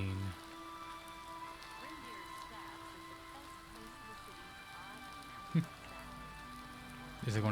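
Steady game rain in Oblivion Remastered, a constant hissing patter over a droning music bed, with a single sharp knock midway and a louder rustle near the end.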